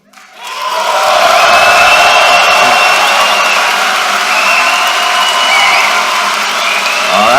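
A loud audience cheers, whoops and claps during a show-of-hands vote at a live discussion event, swelling quickly after a brief quiet start and holding steady throughout.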